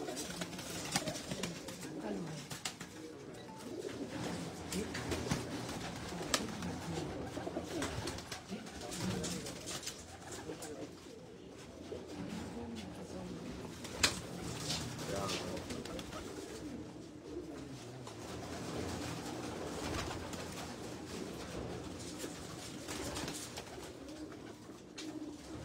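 Pigeons coo repeatedly in soft, rolling calls, moderately near, over a busy background hum for most of the stretch, with occasional bird chirps.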